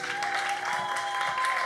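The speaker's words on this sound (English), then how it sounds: "Let's give her one more round of applause." Applause from an audience at a keynote session on non-traditional STEAM careers: a steady, dense wash of clapping that holds at even loudness through the short stretch, with a faint steady tone running underneath.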